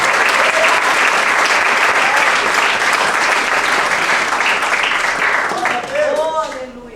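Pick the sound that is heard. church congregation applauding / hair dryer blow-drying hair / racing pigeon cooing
church congregation applauding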